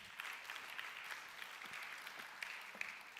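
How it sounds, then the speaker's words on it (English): Audience applause at a business technology talk at BRI Bank, a steady dense patter of many hands clapping at moderate distance, continuous throughout with no talking over it. "Please give him a big round of applause."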